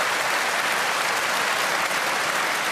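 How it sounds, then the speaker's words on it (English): An audience at a question-and-answer session on mining tax bursts into loud, continuous applause, a dense, even clatter of many hands clapping close by with no pause. "we're going to run out of time if you keep clapping"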